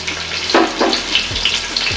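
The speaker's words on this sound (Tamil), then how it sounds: "இது ரெண்டையத்தையும் நல்ல பொன்னிறமாக வதக்கலாம்" Small shallots and big onions sautéing in hot oil with whole spices for mutton dalcha, a steady close sizzle with a few louder bursts of crackle and stirring scrapes, no voices.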